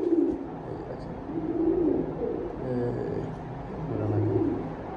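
Bombay pigeons coo softly in low, rolling phrases, repeating several times at a moderate distance against a quiet room background, with no one talking.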